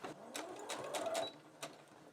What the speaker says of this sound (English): I line my fabric up with my little pinprick and I start sewing.